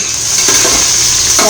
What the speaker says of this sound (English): Onions are fried for some time.